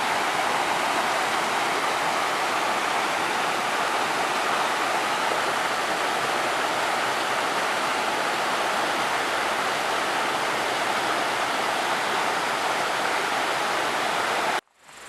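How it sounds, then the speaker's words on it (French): Steady, full rush of flowing water from a mountain stream or waterfall in the Sancy massif of Auvergne, loud and close, continuous and alone for about fifteen seconds before cutting off abruptly at the end. "juste du bruit de l'eau"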